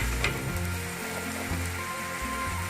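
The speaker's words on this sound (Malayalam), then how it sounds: "ഇനി നമുക്ക് ഇതിലേക്ക് ചിക്കൻ ഇട്ട് കൊടുക്കാം" Half a kilo of chicken frying in a pan for pepper chicken, a steady close crackling sizzle with a few light pops, no voices.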